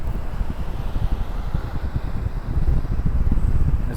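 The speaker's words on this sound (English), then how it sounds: "It's pretty windy right now" Wind buffets a microphone while someone rides a Segway ES3 electric scooter, heard as loud, continuous low rumbling gusts that swell slightly in the latter half and carry no other clear sound.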